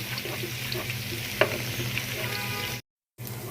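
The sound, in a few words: lightly frying onions for pulao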